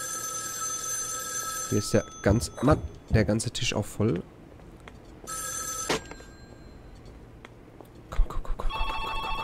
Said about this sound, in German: Das Telefon klingelt, wir müssen eh nach hinten.